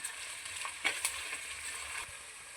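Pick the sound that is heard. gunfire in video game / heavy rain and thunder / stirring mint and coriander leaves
stirring mint and coriander leaves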